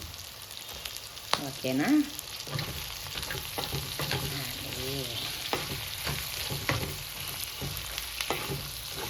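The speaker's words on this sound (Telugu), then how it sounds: "ఇప్పుడు వెంటనే సొరకాయ ముక్కలు వేసేద్దాము అందులో." Bottle gourd pieces sizzle and fry steadily in a hot pan while being stirred, with a brief spoken word early on, for a Telugu-style sorakaya pulusu.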